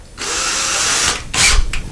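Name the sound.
power drill drilling slowly into a drywall hole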